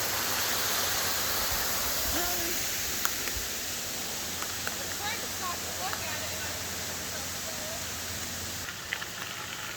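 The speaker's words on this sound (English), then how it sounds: "Another waterfall." A continuous soft rush of a small waterfall, steady and moderately distant, with a few faint clicks and a brief voice-like tone early on, in the mountains near Jim Thorpe, Pennsylvania.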